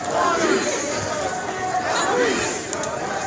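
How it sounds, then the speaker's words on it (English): A large protest crowd on Trade Street in uptown Charlotte, North Carolina, at night, a dense roar of many voices with scattered shouts, close and loud. "There are a lot of people here on Trade Street tonight. The crowd just keeps growing and growing."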